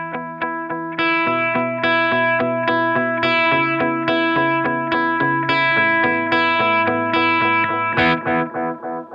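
Electric guitar through a Holy Era tap tempo delay pedal set to double the tap rate, quick repeating picked notes with dense, rapid echoes stacking into a continuous shimmering wash, loud and close with no talk.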